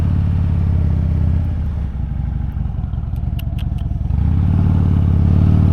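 A 2014 Harley-Davidson Dyna Fat Bob out on the road, its engine droning loud and steady with rushing wind, a brief dip in the middle before the rumble swells back.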